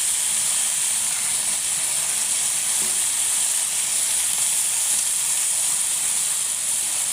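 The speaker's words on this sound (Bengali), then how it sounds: "এখন হচ্ছে আমি মাছের তেলগুলো দিয়ে দেবো।" Fish oil sizzling in a hot pan while tilapia cooks, a loud, steady, unbroken hiss close up with no talking.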